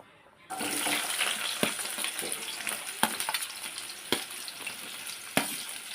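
Chopped onions dropped into hot oil in a pan for pesara punugula pulusu, a sudden sizzle that keeps going with sharp clicks of stirring, and no talk.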